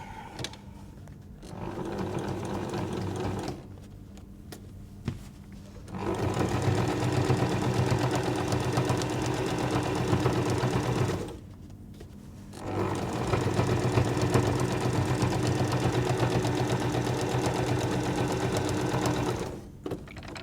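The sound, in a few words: sewing machine stitching through quilt binding layers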